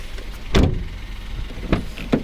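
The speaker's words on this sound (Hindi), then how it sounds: "मैं ज़रा दरवाज़ा बंद कर रहा हूँ" A Citroen C3's door thuds shut with a solid, close knock, followed by a couple of lighter clicks and thumps nearby, with no talk.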